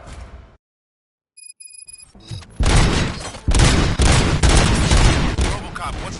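After a short silence and a few beeps, a rapid fusillade of gunshots erupts, loud and close, cracking repeatedly for several seconds.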